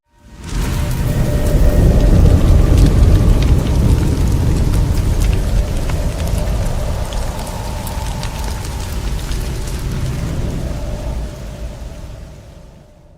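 Heavy rain pouring down steadily in a continuous dense wash, loud and close, with faint low rumbles beneath and no voices.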